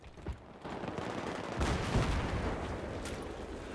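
Sustained bursts of gunfire in the video game Battlefield 3, a steady rattle of rapid shots with a louder stretch midway, heard alone without talk.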